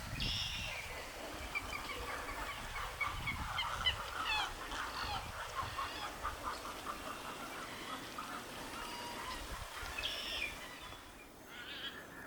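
Duck-like honking calls from white-faced ibis at a wetland conservation sanctuary repeat through a busy chorus of marsh birds, fairly faint and distant, with no talking.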